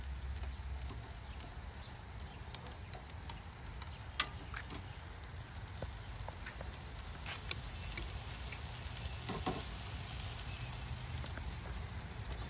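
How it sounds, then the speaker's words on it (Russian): Chicken wings crackle and sizzle on a grill, a steady dense hiss with scattered pops throughout, fairly quiet and continuous with no talk. "первую партию накрываю и пусть немножко жарится, потом будем переворачивать"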